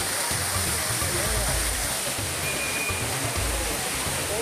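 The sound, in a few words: waterfall with flowing water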